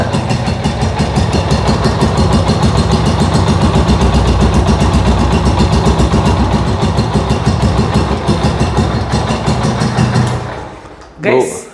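A vintage Royal Enfield motorcycle idles up close with its characteristic even, loud thumping beat, running steadily before the engine is shut off near the end.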